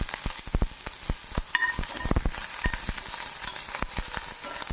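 Garlic and curry leaves fry in a little oil in an iron pan, a steady close crackle punctuated by sharp clicks and scrapes of stirring, no voices.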